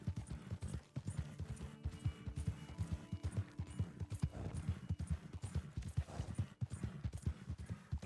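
Hoofbeats of a horse in Red Dead Online, a steady clip-clop rhythm of hooves close by, with a brief whinny and some game ambience around it.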